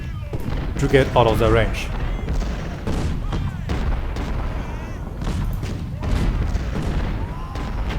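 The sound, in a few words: infantry volley fire in the video game Ultimate General: Civil War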